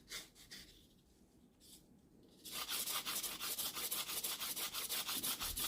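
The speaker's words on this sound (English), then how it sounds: "it's a sandpaper glued to stick of wood." Sandpaper glued to a wooden stick rubs over cherry bark in soft scratchy strokes, faint and intermittent at first, then becoming louder, steady, rhythmic back-and-forth rasping.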